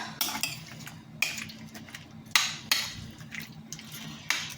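A utensil stirs smoked paprika into goulash in a metal pot, giving repeated sharp scrapes and clinks at irregular intervals, close and fairly loud with no talking.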